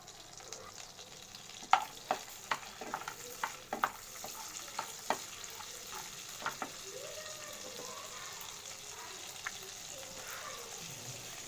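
Masala frying in melted butter for chicken rice, a soft steady sizzle with a run of sharp spoon taps and clinks early on before settling into quiet frying.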